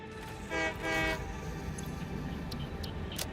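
A video game train departs with a loud horn blast at the start, then a steady rail rumble continues beneath faint sharp clicks, with no speech.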